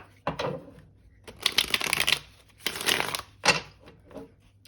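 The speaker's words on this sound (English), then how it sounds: "Okay, we'll do one last shuffle." A tarot deck being riffled and shuffled several times in quick bursts, crisp and close, with short pauses and taps between the shuffles.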